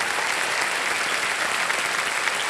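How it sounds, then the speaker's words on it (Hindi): Studio audience on a televised Hindi quiz show applauding steadily, a dense, even wash of clapping that stays loud throughout with no voices on top. "तालियां बज जाए इनके लिए।"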